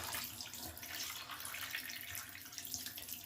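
Dirty wash water from a filthy alpaca fleece draining out of a tub, a faint, steady rushing trickle of water with no voices.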